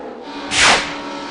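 NASCAR stock cars racing for the lead at Talladega in the Aaron's 499 sweep past in a single loud whoosh that peaks and fades within about a second, with a steady engine drone underneath.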